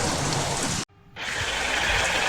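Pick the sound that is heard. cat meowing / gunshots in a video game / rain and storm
rain and storm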